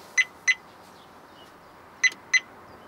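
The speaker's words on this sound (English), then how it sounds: "If it's not recording, it beeps at you." Two pairs of short, high electronic beeps from a Viofo A139 Pro dashcam, each pair quick double chirps, separated by a pause, over faint background hiss.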